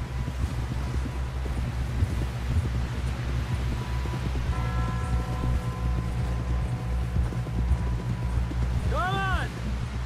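Horse hooves clip-clop at a steady gait in the Red Dead Redemption 2 video game, a continuous rhythmic patter under wind noise and music, with a character talking over it.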